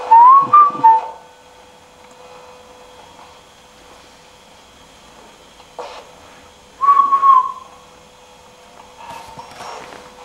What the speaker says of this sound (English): Can you hear that whistling?